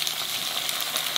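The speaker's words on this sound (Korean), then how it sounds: "달달달달 볶아주세요" Fish cakes stir-fry in garlic oil with soy braising sauce in a pan, giving a steady close hissing sizzle with small scraping clicks from stirring and no voices.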